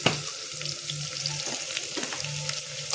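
Bottle gourd pieces with turmeric frying in oil give a close, steady sizzle and crackle with a faint low hum underneath.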